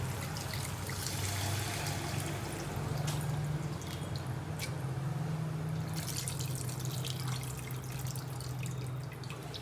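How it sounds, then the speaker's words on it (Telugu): Tamarind broth pours and trickles steadily into a pan holding murrel fish, a soft continuous liquid splash with faint drips and a low hum behind it, no talk. "చూడండి పులుసు వేసేసుకుందాం."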